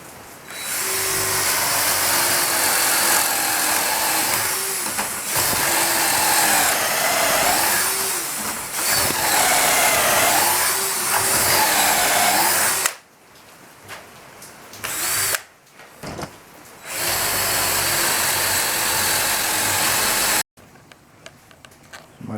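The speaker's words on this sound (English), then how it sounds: "My drill battery says enough for now, but I got plenty enough drilled" A cordless power drill bores into hardwood, whining loudly in repeated long bursts, pitch dipping as it bites, with short pauses between runs and a final stop.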